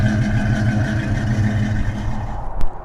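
A 1971 Chevrolet Nova SS350 V8 revs under throttle, a loud, close, steady throbbing rumble that holds for a few seconds before a sharp knock near the end.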